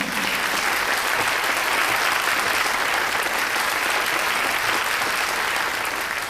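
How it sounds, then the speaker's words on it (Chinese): Sustained applause from an audience welcoming the groom-to-be, Mr. Shiyi, at the formal opening of his engagement ceremony with Ms. Fangyan; dense, steady clapping fills the room at an even level from start to finish. "让我们全场掌声有请准新郎十一先生"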